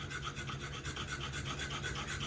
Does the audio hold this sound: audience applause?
no